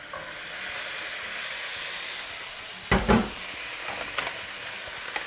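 Chickpeas dropped into a sizzling chickpea and paneer pulao in the pan, a steady steamy hiss broken by a brief clattering thump partway through and a few small knocks after.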